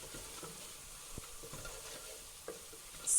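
Biryani masala powder stirred in a cooking pot for a dum mutton biryani, with a quiet sizzle under a few soft scrapes and taps of the spoon, heard close and fairly faint.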